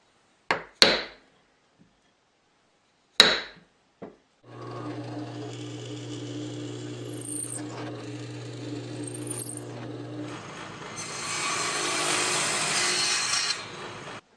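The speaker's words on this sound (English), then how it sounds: "I have to drill some holes in here" Several sharp knocks, then a power drill boring holes into a wooden block in a woodworking shop for a trammel-point compass. Its steady whirring hum with chattering grind runs for several seconds and roughens near the end, with no talk.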